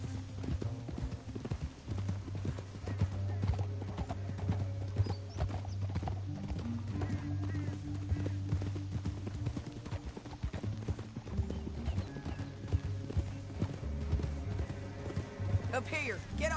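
Horses gallop with a steady clip-clop of hooves in the Western video game Red Dead Redemption II, the hoofbeats running continuously beneath game music, with speech and an occasional neigh in the mix.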